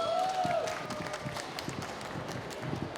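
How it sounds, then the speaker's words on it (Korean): Audience applause at an autism-themed conference in Korea, welcoming the next presenter to the stage; moderate, steady clapping from a seated crowd, fairly distant, with a faint voice heard over the start. "박수로 모실게요."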